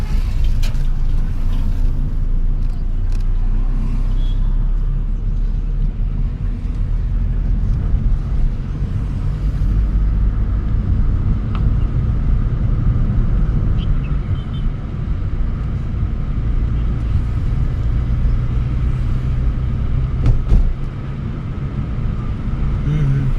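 A car on a driving lesson around Solan, its engine giving a steady loud low drone inside the cabin for over twenty seconds with no clear rise in revs, while voices talk faintly underneath.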